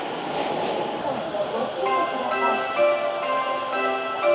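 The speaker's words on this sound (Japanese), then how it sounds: "中央線快速、東京方面のオレンジ色の電車へ" Orange Chuo Line rapid train at Ochanomizu Station, its interior noise a steady low rumble with a rising electric motor whine that grows into sustained tonal hums partway through, under a murmur of speech.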